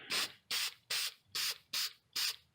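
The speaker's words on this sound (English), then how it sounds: "I'm going to go ahead and spray" Six short hissing bursts from a spray can of clear acrylic gloss coating, evenly spaced with brief pauses between, close and fairly quiet.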